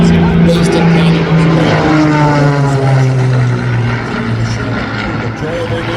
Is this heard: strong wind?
no